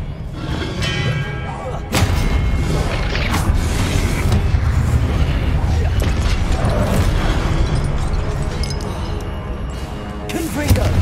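Confringo spell blasts in Hogwarts Legacy, a dense run of booming, thudding explosions and crashes over continuous loud battle noise, with a sharp burst near the start and another late, mixed with voices.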